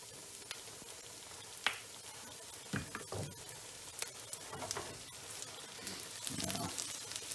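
Meatballs fry in oil in a pan for a Russian meatball dish, giving a soft, steady sizzle with scattered pops and crackles over a low background, and no talking.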